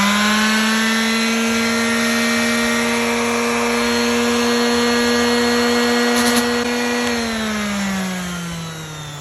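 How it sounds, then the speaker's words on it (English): An orbital sander runs steadily on a burned wood tiki sign, a loud, sustained whine that holds its pitch for several seconds before winding down at the end. "I tried using the orbital sander to take down the top layer"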